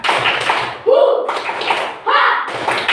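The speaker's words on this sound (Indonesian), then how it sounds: "sekali lagi, tepuk semangat." A classroom of students claps a quick rhythmic spirit clap in unison, with sharp, loud clap bursts alternating with a teacher's chanting voice.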